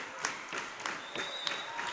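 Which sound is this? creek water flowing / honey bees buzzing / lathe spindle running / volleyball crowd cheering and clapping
volleyball crowd cheering and clapping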